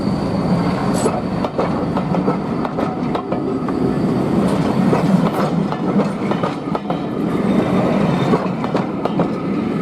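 A heritage diesel locomotive, one nicknamed a chopper, rumbles past close by at a railway diesel gala, its wheels clattering in a rhythmic clickety-clack over a steady heavy engine drone.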